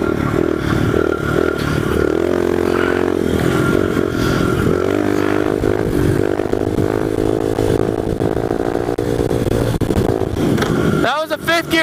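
A pit bike engine revs hard and climbs through the gears into a fifth-gear wheelie, a loud, close buzzing whine that holds a steady high pitch before cutting off abruptly near the end, with voices talking over it.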